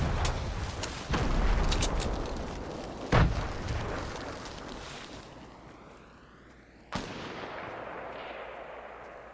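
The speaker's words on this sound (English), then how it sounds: "So that's the sniper I was talking about." A sniper rifle shot in a first-person shooter game rings out as a sharp loud crack, followed by other booming gunfire and a long echoing tail, amid a busy battle din; one further crack hits near the end.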